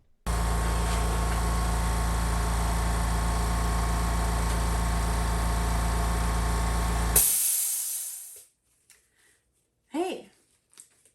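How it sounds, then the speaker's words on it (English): A hobby air compressor drones loudly and steadily for about seven seconds while priming models, then cuts off with a short hiss and falls away into near silence, followed by a few faint sounds. "What you just heard was the air compressor shutting off."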